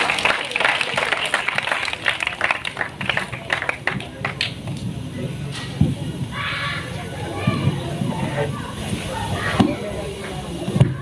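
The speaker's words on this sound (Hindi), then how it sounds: "ज़ोरदार तालियों से इनका स्वागत कीजिए" Crowd applause at a village student award ceremony in Bhagal, greeting a woman singer coming to the stage. Dense, steady clapping from many hands fills the whole stretch at moderate volume, with scattered voices and crowd noise mixed in.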